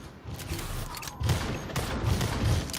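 Rapid gunfire bursts from the Marvel Rivals video game, a dense rattling fusillade with low thumps that grows louder midway and continues steadily throughout.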